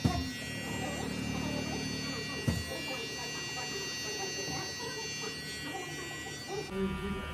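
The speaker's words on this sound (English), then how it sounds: "You don't have to start with the clipper open." An electric hair clipper buzzes steadily throughout while a barber cuts a drop fade, a close, continuous motor hum with a brief bump partway through and a change near the end, with low talking in the background.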